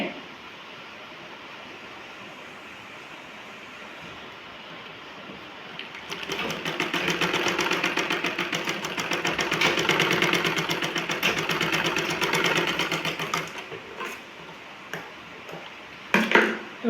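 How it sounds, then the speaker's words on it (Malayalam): A sewing machine stitches a blouse in a steady, rapid mechanical chatter that starts after a few quiet seconds, runs for about seven seconds, then stops, with a few short bursts near the end. "ഇതിന് മേലെ തന്നെ നമുക്ക് ഇതിനെ തയ്ച്ചു കൊടുക്കാം ഈ പോയിന്റ് വരെ"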